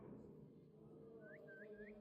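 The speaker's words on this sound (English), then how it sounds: "I'm actually gonna whistle." A person whistles in a video game: three short rising whistles arrive in quick succession near the end, faint over a steady murmur of background game ambience.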